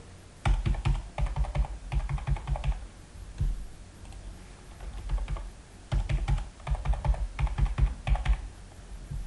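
Someone types an email address and password on a computer keyboard, with close, rapid clattering keystrokes in bursts separated by short pauses, and no voices.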